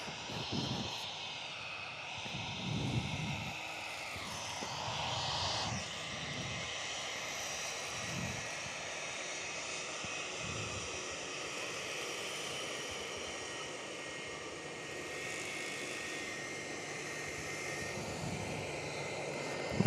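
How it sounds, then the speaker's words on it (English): Airliner taking off from Perth Airport, a steady roaring jet engine drone with rising whine, heard from a spotting position at moderate distance, continuous for about twenty seconds without talking. "we'll just go straight to another Cottesloe aircraft heading out"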